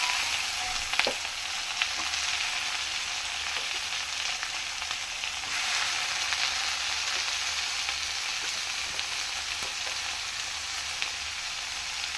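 Steady, loud sizzling of aloo gravy frying in a pan as tomatoes go in, a continuous bright hiss with occasional soft stirring clicks and no voices.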